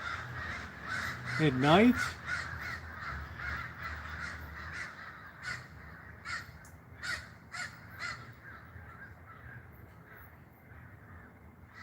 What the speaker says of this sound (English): Listen to those crows.